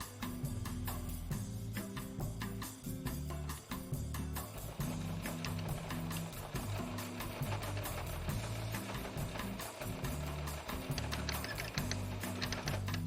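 Sewing machine stitching binding onto a quilt, running in a steady continuous hum with rhythmic needle chatter throughout, close and fairly loud with no talking.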